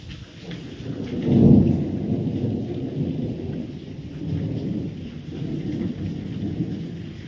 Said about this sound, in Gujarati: બસ જો આ વીજળી ગાજવાનું ચાલુ છે અને હવે આપણે છૂટા પડીએ વરસાદ પડી ગયો